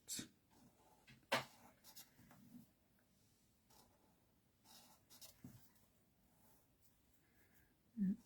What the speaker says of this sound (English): I'm literally easy colouring with my alcohol markers